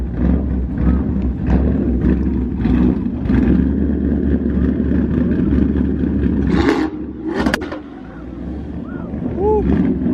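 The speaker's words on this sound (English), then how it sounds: "Rev battle. Mustang didn't want none, but his is very loud too." A loud Mustang engine roars and revs in a rev battle at a Halloween car meet, a continuous heavy rumble with rising revs, crowd voices and talk mixed in nearby.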